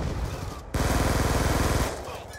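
A rapid burst of automatic gunfire in Black Ops 2, loud and rhythmic, lasting just over a second after a short cut, then fading into lighter background noise.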